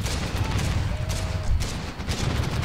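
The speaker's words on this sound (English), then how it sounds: "if I just hold down the trigger, as you can see, I can dump rounds downrange" A semi-automatic rifle in the modded shooter game Running With Rifles fires rapidly and continuously, the loud, dense shots running together into a sustained burst with no voices.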